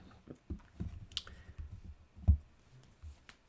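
A few soft, sharp mouse clicks tap out at a computer while an account is set up in a web browser, with one louder click near the end and quiet room tone between.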